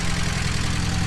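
A Nova car engine idles while warming up, a steady, close, low rumble with an even throb and no voices.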